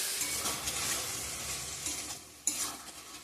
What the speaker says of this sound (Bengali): ভালো করে ভেজে কষিয়ে নেব, ভালো করে কষিয়ে নিই।